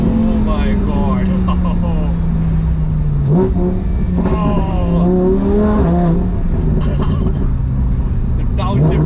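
A Lamborghini Huracan with a race exhaust, tuned to 630 horsepower and driven in Corsa mode in India, roars loudly and continuously, its pitch climbing and then dropping in sharp steps as it is aggressively downshifted.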